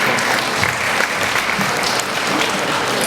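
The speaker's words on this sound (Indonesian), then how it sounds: "Kembali tepukan yang meriah luar biasa" An audience at an 80th birthday celebration breaks into steady, full applause, a close, dense wash of clapping with no voices over it.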